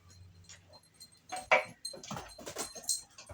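Bella the dog races around indoors with quick patters, light clinks of jangling tags and scuffs coming in irregular bursts, close by and fairly soft.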